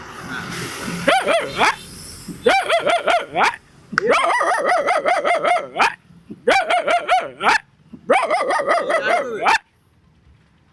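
A person imitates a dog, giving a series of loud, yelping barks in several bursts with short pauses between them.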